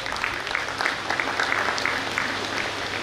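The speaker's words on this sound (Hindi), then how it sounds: "जोरदार तालियां" Audience at a tribute event for a singer claps loudly and continuously, a dense, even roar of many hands with slight swells throughout.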